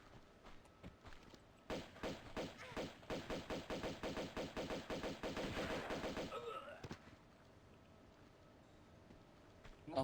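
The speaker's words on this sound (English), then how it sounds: "Somebody's got a shotgun again, I think." Rapid gunfire in the Tomb Raider 2 video game, apparently a shotgun: a burst of about a dozen evenly spaced blasts over roughly five seconds, moderately loud, then a short ringing tail and quiet.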